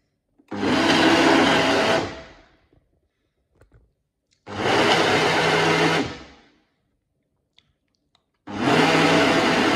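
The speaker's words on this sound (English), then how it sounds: "Time to start blending it up. I have the Ninja blender." A Ninja blender whirring at full power blending a smoothie in three loud bursts of about two seconds each, separated by short silences with faint clicks.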